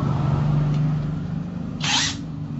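A power drill on speed 2 with a 5.5 mm DeWalt HSS-G steel bit whirs steadily at a constant pitch, with a brief harsh burst of grinding noise near the end as the bit bites into metal.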